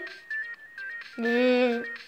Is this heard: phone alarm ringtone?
yes